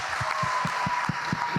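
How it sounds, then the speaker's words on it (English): Audience members at a student-athlete summit forum clap in a loose, rhythmic beat, a soft patter of hands moderately distant in a large room. "could y'all help me give them a hand clap?"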